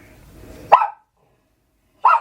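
A dog barks indoors, two sharp separate barks about a second apart, close and fairly loud over faint background, with no speech.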